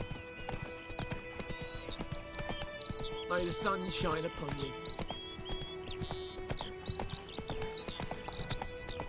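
Horse hooves clip-clop in a steady galloping rhythm on a road in the video game The Witcher 3: Wild Hunt, with a whinny midway through. The hoofbeats are close and continuous, and a character's voice speaks over them.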